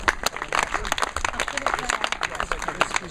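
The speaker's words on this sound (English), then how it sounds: "we can still give him a round of applause." Audience applause at a ten-mile run presentation ceremony on the Isles of Scilly, a modest group clapping in quick uneven bursts with some voices mixed in.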